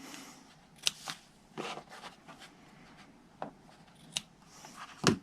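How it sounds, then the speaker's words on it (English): Scissors snip through paper trimming ribbon ends on a handmade bottled bouquet gift box, a handful of crisp, close cuts spaced irregularly over a quiet background with no talking. "I'm just going to trim them off."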